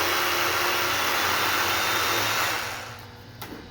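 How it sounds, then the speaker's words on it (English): A Sawzall reciprocating saw cuts through copper welding lead cable with a steady, loud, buzzing whine that holds for over two seconds and then tapers off. No one speaks. "and then I'll cut it off with Sawzall"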